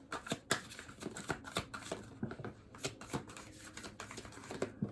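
Tarot cards being shuffled, a run of quick irregular papery riffles and taps, close and fairly quiet, with no talking.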